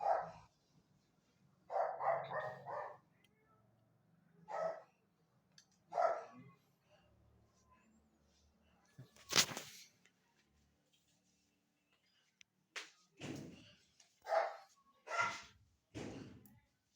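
A dog barks in short separate bursts, several woofs spaced across the clip, fairly close, with quiet pauses and a few thumps between them.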